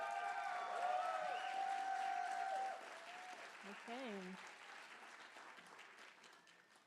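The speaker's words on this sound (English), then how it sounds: "Could we get another round of applause, please?" A crowd at a City of Davis Martin Luther King Jr. celebration gives a soft, distant round of applause that fades gradually. Tonal ringing sits over it, and one voice speaks briefly.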